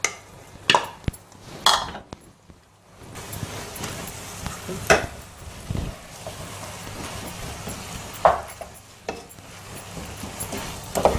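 Cooked rice is stirred around a hot tawa, giving scattered scraping and clicking spatula strokes over a faint, low sizzle, with a few louder knocks near the start.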